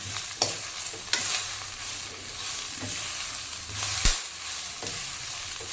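Drumstick leaves being stir-fried in a pan, a steady close sizzle with repeated scraping and clinking stirs of the spatula against the metal, no voices.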